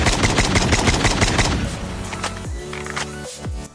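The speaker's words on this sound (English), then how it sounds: "I'm using it on the SKS, but it's still shooting in single mode" An SKS rifle in Call of Duty Mobile fires a fast run of sharp, loud shots in quick succession, then the firing stops and ringing, mechanical tails fade out.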